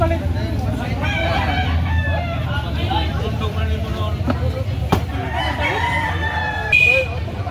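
Roosters crow repeatedly across a busy poultry market in Carbon, Cebu, layered over steady crowd chatter, low traffic rumble and a few sharp knocks, with voices talking throughout.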